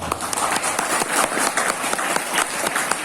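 An audience at a religious gathering on nationhood claps in a lively, uneven burst of many hands, fairly close and sustained for about three seconds with no talking over it.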